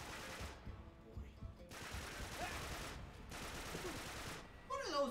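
Bursts of automatic gunfire from the video game Uncharted 3: Drake's Deception, in several dense stretches of rapid shots, loud and close, with someone talking over parts of it.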